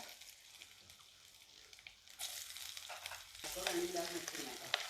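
Coconut pieces fry in hot oil with a soft, steady sizzle that grows louder and busier partway through.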